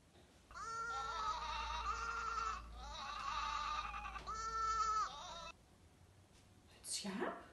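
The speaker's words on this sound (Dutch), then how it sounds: "Ja, het schaap." Sheep bleating in three long, wavering cries close by, each lasting a second or more with short gaps between, followed by a brief higher sound near the end; no talk over the calls.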